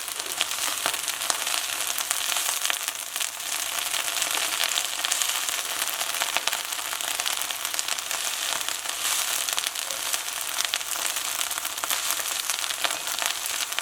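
Kale sizzles steadily in a hot pan with garlic, salt and pepper, a continuous close crackle of sautéing that holds even for the whole stretch with no voices.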